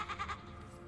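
Were sheep in the video game Divinity: Original Sin giving a short, faint bleat, a brief wavering cry lasting under a second.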